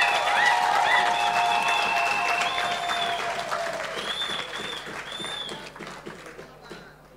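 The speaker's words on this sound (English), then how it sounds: "Another round of applause." Audience at a political town hall applauding, a dense burst of clapping that starts loud and gradually tapers off, with a few voices and whistles mixed in.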